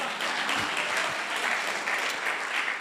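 An audience at a public lecture claps steadily, a dense, sustained round of applause with no voices standing out.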